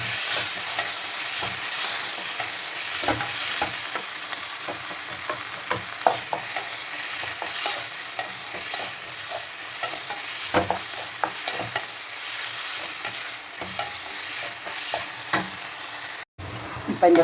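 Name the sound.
sautéing tomatoes in a pan for vendakkai sambar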